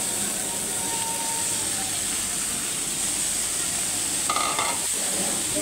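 Banana flower fries in a pan with spice masala, a steady close hiss of frying running throughout with a few scraping stirs near the end.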